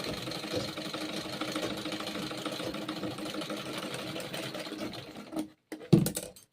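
A sewing machine runs steadily while stitching a curved deep neckline on a kurti, a dense continuous whir for about five seconds before stopping abruptly with a couple of short clicks.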